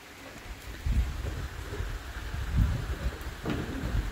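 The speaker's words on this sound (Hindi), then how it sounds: "देखो उधर से तो मेरे को लग रहा बहुत तेज बारिश आ रही है" Heavy rain pouring outside a home, a steady broad hiss with deeper rumbling swells rising and falling through it, no voices.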